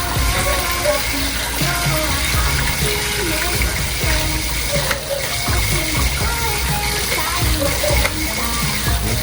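Running water pours steadily over a pot to rinse off rust in a simple outdoor kubo kitchen, a constant loud gushing with faint voices and clatter beneath it.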